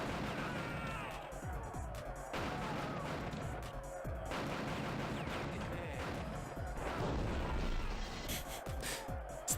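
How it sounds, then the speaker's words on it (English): Rocket launcher in the PS1 game Die Hard Trilogy 2: Viva Las Vegas, dense game combat with repeated blasts, crashes and bursts of fire layered over music, continuous and fairly loud throughout. "It's the really stupid rocket launcher."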